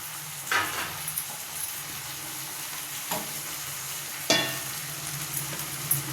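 Puffed rice (mandakki) is stirred in a frying pan for Davanagere-style oggarane, a quiet continuous sizzle cut by a few sharp scraping sweeps of the spoon.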